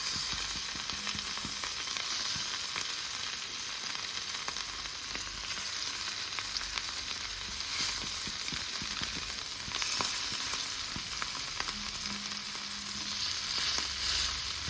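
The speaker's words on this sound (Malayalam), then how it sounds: "അതിൽ വെള്ളം ഉണ്ടായിരുന്നു അതാ പൊട്ടുന്നത്" Sardine curry paste frying in a hot pan, a close, unbroken sizzle with frequent crackles and small pops from trapped water, steady in level throughout and free of talk.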